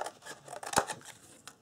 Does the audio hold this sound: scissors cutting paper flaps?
yes